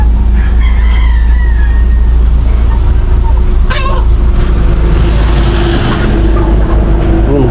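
Chickens cluck and a rooster crows in a small backyard poultry pen over a loud, constant background rumble, with brief calls standing out now and then.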